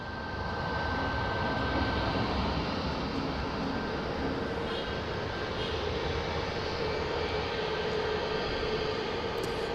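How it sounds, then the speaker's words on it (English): A JetBlue Airbus A321 airliner at Boston Logan produces a loud, continuous jet engine roar with a steady whine on top, sustained throughout without voices. "We got a JetBlue hitting the San Diego and A321."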